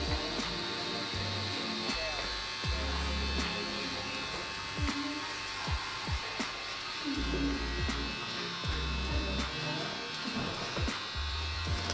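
A tattoo machine buzzes steadily while lining on artificial skin, a continuous electric whine holding through twelve seconds with faint low thumps and knocks underneath.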